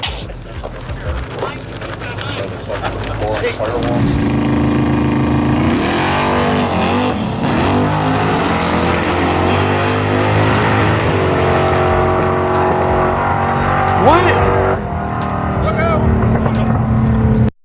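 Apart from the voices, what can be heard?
cars driving past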